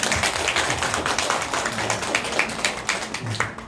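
A church congregation claps during a Sunday service, a brief round of scattered, uneven applause from a modest crowd that fades toward the end.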